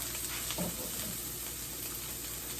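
Peppers fry in a pan with a steady, close sizzle, and a faint stir or shift of food is heard briefly partway through.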